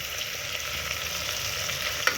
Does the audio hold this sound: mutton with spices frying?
yes